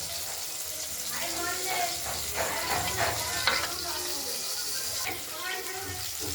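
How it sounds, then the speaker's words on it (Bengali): Rohu fish pieces frying in a pan, with a steady broad sizzle of hot oil running throughout at moderate level, plus faint clinks and stirring noises from close by. "দেখতে থাকুন, মাছগুলো ভাজা হচ্ছে।"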